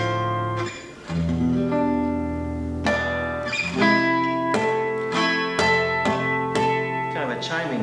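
Chiming chord harmonics made by tapping the strings at a certain spot over a fretted chord, ringing out close and clear in a series of about eight bright struck attacks, each overlapping the last's sustain, with no talking.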